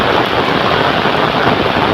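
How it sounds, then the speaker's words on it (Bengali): Heavy rain pouring across open village fields with coconut palms and bamboo groves nearby, a loud, steady broadband wash that fills the whole scene without pause. "চারদিক শুধু বৃষ্টি আর বৃষ্টি"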